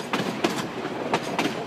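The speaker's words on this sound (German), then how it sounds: "Der Zug eilt seiner ersten Station entgegen." A Madagascar jungle express train rolls over old, roughly laid rails with a steady rumble and recurring clickety-clack wheel knocks, loud and close, with no voices.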